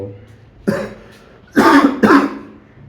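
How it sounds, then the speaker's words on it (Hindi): A man coughing and clearing his throat, three harsh bursts, the last two loud and close together, with no talking. "मुझे काफ़ी खांसी आ रही है"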